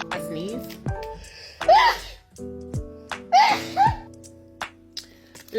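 A young woman with a nose ring sneezes in a short fit, several sharp bursts close to the mic, mixed with voiced gasps and laughter-like vocal sounds.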